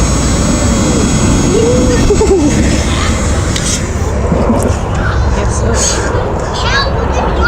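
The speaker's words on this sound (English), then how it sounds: "Then you can use the blower to fan the flames." A HomeRight ElectroLight electric fire starter's blower roars steadily and loudly while fanning flames, a constant rushing whoosh that fills the whole stretch without a break.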